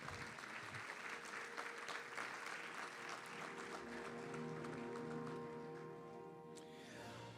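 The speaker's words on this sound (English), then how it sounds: "How about a big round of applause for Eric?" An audience at the 17th annual Best and Bravest Awards gives sustained applause for a Manager of the Year honoree, a thick, even wash of clapping that lasts about seven seconds before thinning out at the close.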